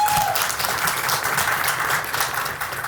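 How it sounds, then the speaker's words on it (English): Audience applause at a chamber of commerce business event, a steady, close burst of many hands clapping that continues throughout and tapers slightly at the end. "Can we also give a round of applause to Donovan of Economic Development?"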